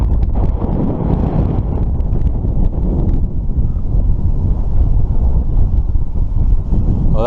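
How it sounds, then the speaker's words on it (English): Gusty wind buffets the microphone on the hilltop ramparts of Cadbury Castle hill fort, a loud continuous low rumble with no voices. "We'll catch some of the wind noise in just a little second."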